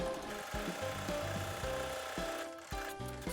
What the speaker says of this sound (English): sew along the edge using an 1/8 of an inch seam allowance.